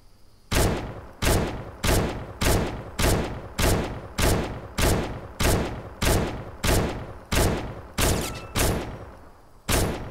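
Gunfire from a gun in Fortnite Mobile, a steady run of about fourteen sharp, loud shots at a regular pace with a short break near the end, close and alone with no talk.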